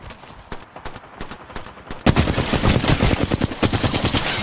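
Video game gunfire opens with a few quieter shots, then bursts into a loud, fast automatic volley of closely spaced rounds that keeps going to the end.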